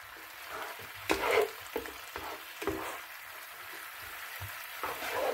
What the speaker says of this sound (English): You can turn the heat up a little bit on the skillet and just cook this down a little bit more.